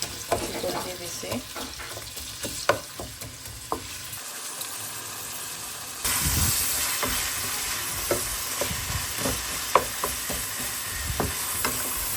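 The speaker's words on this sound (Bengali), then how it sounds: "তেল পেঁয়াজটা ভাজবো" Onions frying in oil in a home kitchen pan, a continuous close sizzle that swells louder partway through, with scattered clicks and scrapes of stirring and no talking.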